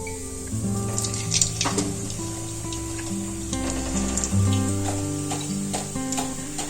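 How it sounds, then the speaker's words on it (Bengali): Chira pitha, flattened-rice fritters with sweet potato and mung dal, frying in hot oil over a low flame, giving a steady close sizzle and bubbling with a few soft clinks of a utensil. "চিড়ের ভাজা পিঠেগুলো এইভাবেই ভেজে নেব"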